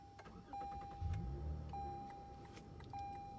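A 2015-or-later Lexus is remote-started with its key fob, with a soft engine turnover and low rumble alongside a steady electronic tone that cuts in and out, heard faintly from nearby.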